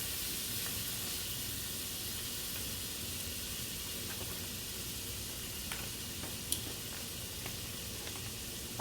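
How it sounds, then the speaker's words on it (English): A stick of butter melting in a pan on medium-high heat for caramel sauce, giving a steady soft sizzle and hiss with occasional small pops, fairly quiet and without talk. "I'm gonna let that butter melt on medium high"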